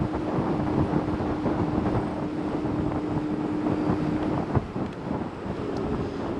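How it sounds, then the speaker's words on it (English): Strong wind buffets a microphone on the Ohio River levee trail in Louisville, Kentucky, a steady loud rumbling roar that runs throughout with a faint constant hum underneath and no speech. "I hope that the wind noise isn't too bad on this, because it's pretty windy"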